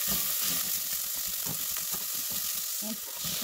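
Garlic and onion sautéing in a pan for chicken curry, a dense, steady sizzle up close with soft stirring knocks underneath.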